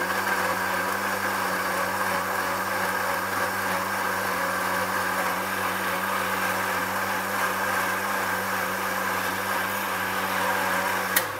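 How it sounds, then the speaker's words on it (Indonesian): Blender whirring steadily while blending a detox drink, a loud, even motor drone that holds for about eleven seconds with no talk. "Kita blend. Kita blend. Blend halus."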